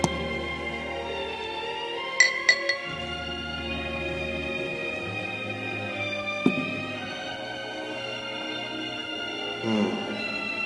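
A red Bodega glass clinks a few times, with a quick cluster of sharp taps early on and one more later, set against steady background music.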